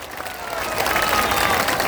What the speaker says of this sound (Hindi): जोर से बजाइए ताली।